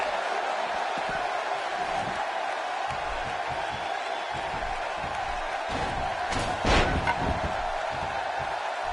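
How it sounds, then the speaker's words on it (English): A wrestling arena crowd in the WWE 2K16 video game gives a sustained low roar under a commentator's voice, with a sharp impact sound near the end. "by the sound of this crowd, I think they're getting what they wanted"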